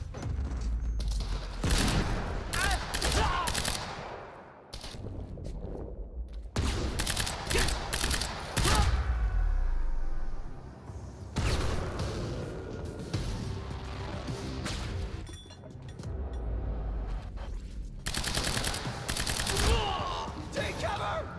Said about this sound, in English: Oh wait, I have like an assault rifle.